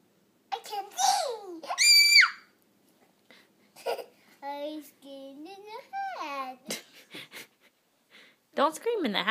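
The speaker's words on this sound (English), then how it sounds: "Don't scream in the hat." A young child's loud, shrill shrieks and excited babbling come in bursts close by, screamed into a hat, muffled and boomy at times, with short pauses between.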